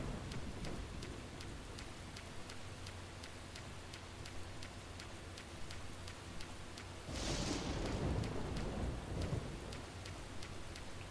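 Steady rain in Deadly Premonition Director's Cut, a soft continuous patter with regular ticking, swelling into a heavier, louder downpour burst partway through, with no voices.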